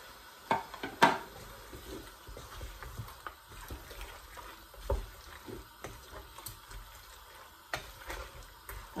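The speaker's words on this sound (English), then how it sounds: "I'm going to stir it now" Okra soup with blended pepper being stirred in a pot, giving soft, irregular scrapes and light liquid sloshes with a few sharper clinks of the spoon against the pot, close and quiet.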